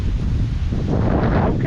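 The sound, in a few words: strong wind at the beach point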